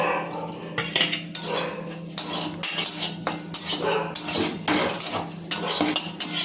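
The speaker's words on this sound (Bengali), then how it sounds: "আমি শুকনো কড়াতে গরম মশলা জিরেটা টেলে নেব" Garam masala and cumin dry-roasting in an empty wok, stirred with a utensil in repeated rhythmic metallic scrapes and clinks, close and steady with no talking.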